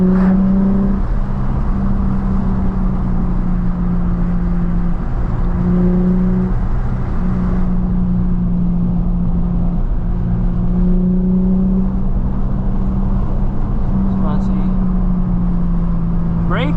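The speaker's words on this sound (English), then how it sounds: "we're gonna go windows down so we can hear that Tomei exhaust" Nissan 350Z fitted with a Tomei exhaust pulling away with the windows down, a steady loud engine drone filling the cabin and rising in pitch through the gears, with no talk over it.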